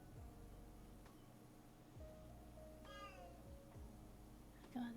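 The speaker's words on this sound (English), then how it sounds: "God, this cat." A cat meows once, a short, faint cry partway through, against a quiet room with soft lo-fi music and low background tones.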